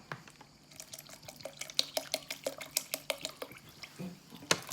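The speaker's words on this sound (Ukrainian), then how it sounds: "додаємо води" Cold water splashes and trickles into a bowl of soup in a series of quick drips and pours, close up and fairly quiet, ending with a brief clatter.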